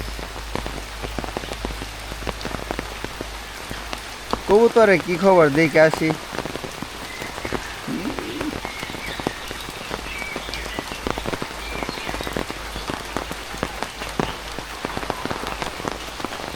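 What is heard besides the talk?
heavy rain falling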